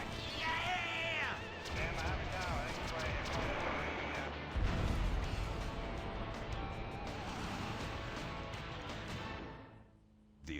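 Airstrike blasts and gunfire in GTA V, a loud rumbling barrage of explosions and shots that runs steadily for several seconds, with voices speaking over the din before it cuts off.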